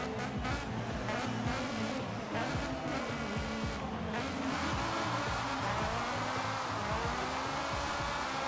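A Honda Prelude with VTEC power revving hard in Forza Horizon 4, rising and falling engine notes near an 8,000–9,000 rpm limiter, with tire squeal and sliding mixed in; loud and continuous, no talk.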